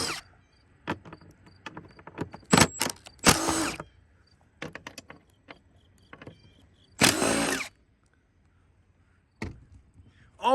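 A power tool backs bolts out of a Jeep roof rack, with loud close whirring bursts, a few longer runs and scattered clicks and clatter of handling in between.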